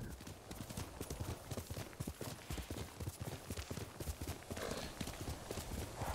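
Kage, a horse in Ghost of Tsushima, gallops at a steady fast pace, with rhythmic clip-clop hoofbeats thudding close and loud throughout and a brief whinny mixed in.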